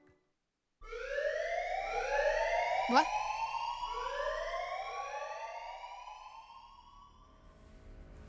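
A loud alarm in a visual novel game wails in repeated rising sweeps that start abruptly and continue for several seconds before slowly fading, with a brief spoken interjection near the middle.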